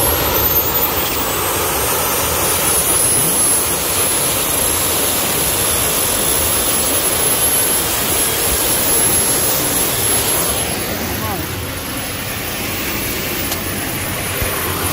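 Jet engines mounted on a Tesla roar at full throttle in the rain, a loud, continuous close-up blast with a high whine riding over it, holding steady for the whole stretch.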